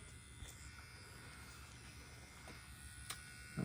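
Tattoo machine fitted with KinTattoo Napoleon cartridges running as a steady, quiet electric buzz, close and unbroken for several seconds, with a couple of faint clicks and no voices.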